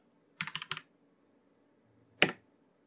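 A terminal command is typed on a computer keyboard: a quick burst of three or four close, crisp key clicks, a pause, then a single louder keystroke.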